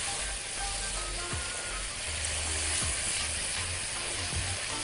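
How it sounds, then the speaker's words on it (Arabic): Minced liver frying and being stirred in a pan, a steady close sizzle with scraping stirring strokes running throughout, no talking. "ونيجي نقلب الكبدة مع كل الكلام ده"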